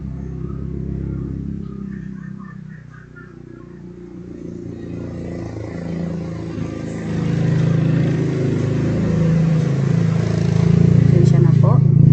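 A motorcycle passes by outside during a networking lesson. Its engine rumble swells and grows louder toward the end while a person keeps speaking over it.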